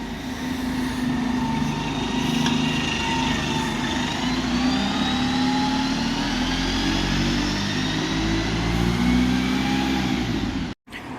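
A bus on service A to Prestbury pulls away from a Cheltenham stop, its engine droning steadily and rising in pitch as it accelerates, loud and close for several seconds before cutting off abruptly.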